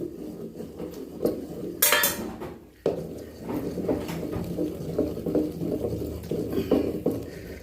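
A ladle stirs besan batter in boiling water in a pot, making irregular metallic clinks and scrapes against the sides over a low bubbling bed, with one sharper clatter near the start.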